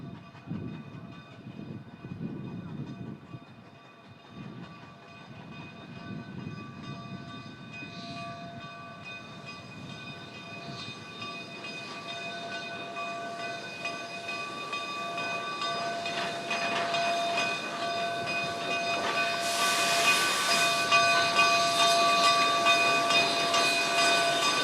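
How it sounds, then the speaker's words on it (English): A steam train stands at Cumbres for a water stop and brake test, its steady whistle-like harmonic tones and hissing steam building louder toward the end, with no talking. "Our train will stop here for water and a brake test"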